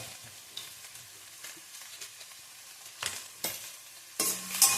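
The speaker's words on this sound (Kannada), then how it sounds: "ಫ್ರೈ ಮಾಡಬೇಕು." Ginger garlic paste and tomato frying in a pan, a soft steady sizzle with intermittent spatula stirring scrapes and a louder burst of sizzling near the end, no voices.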